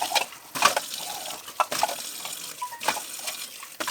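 Water runs from a kitchen tap while bowls are rinsed under it, a steady close splashing stream with brief clinks and bursts as the dishes shift under the flow.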